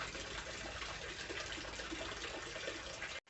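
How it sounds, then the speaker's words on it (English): Half a gallon of water poured into a container outdoors on a back patio, a steady, loud rushing splash that runs unbroken for about three seconds and then cuts off abruptly. "So I'm going to put about a half gallon of water in here"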